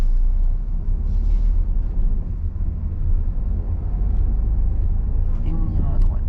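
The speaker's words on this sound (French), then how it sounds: "Et on accélère." A learner driver's car accelerates steadily during a driving lesson, a low continuous engine drone close by with voices talking over it throughout.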